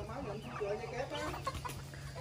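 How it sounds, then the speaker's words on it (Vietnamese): Đông Tảo chickens cluck on a farm, a hen with chicks among them, in short irregular calls blended with steady low background noise and people talking nearby. "gà là đông tảo đó kìa"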